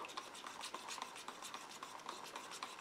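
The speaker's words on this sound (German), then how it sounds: "Wenn ihr dann aber weiter rührt" Acrylic pouring paint mixed with Inpasto medium is stirred in a cup, a quick, steady rhythm of soft wet scrapes and taps repeating close up with no talking.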